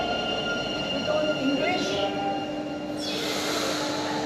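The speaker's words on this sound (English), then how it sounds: "So we are currently on a metro" Inside a metro train in Bilbao, a steady rumble of wheels on track with rising squeals and whooshing swells as the carriage runs, while people talk over it.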